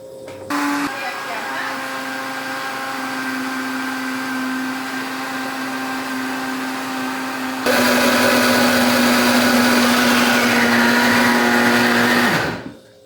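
A kitchen blender whirs steadily while blending pancake batter, its steady motor drone running throughout and jumping louder and harsher partway through before cutting off at the end.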